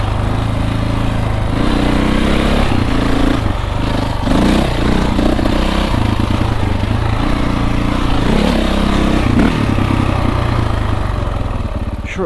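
A KTM 450exc dirt bike engine runs steadily and loudly close by on a single-track trail, a continuous buzzy drone with slight surges in pitch, rough and uneven.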